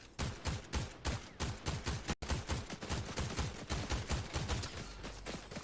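Rapid bursts of video game gunfire, close and loud, crackle in repeated volleys nearly nonstop with one brief cutoff near the middle.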